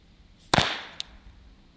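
A CO2-powered self-defense flashlight fires a single shot at a rubber dummy, giving a sharp pop with a brief hissing tail and a small click just after, against a quiet background.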